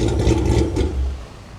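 A Dodge Challenger engine revs through newly fitted Karnage mufflers, giving a deep, loud, close exhaust roar that swells and then settles back over about a second and a half.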